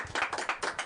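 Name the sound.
party guests clapping for Dean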